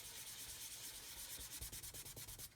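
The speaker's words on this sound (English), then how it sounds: "So all you're basically doing is sanding it away" Steady, close abrasive rubbing of sanding a 1/72 scale Modelcollect B-52 plastic model part, continuous at first, then breaking into quick repeated strokes near the end.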